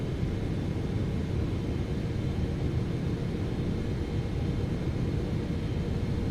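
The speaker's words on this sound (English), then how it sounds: "Wow, the engines sound awesome." Jet engines of a PMDG 777 in a flight simulator game during a hurricane approach, a steady dense low roar with broadband rushing noise that holds constant throughout, with no talk.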